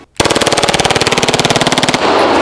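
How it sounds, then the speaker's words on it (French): A Glock 18 pistol firing in full-auto mode: one loud, close, unbroken burst of rapid shots that ends abruptly, leaving some ringing echo. "Le Glock 18, rajoutant un mode en full auto."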